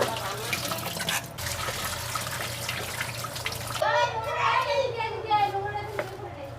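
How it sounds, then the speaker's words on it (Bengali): Turmeric roots being rinsed under running water at an outdoor tap, a steady splashing stream throughout that grows brighter and more gurgling in the second half as the roots are handled, with voices in the background. "হলুদগুলো ধুয়ে নিই এখানে।"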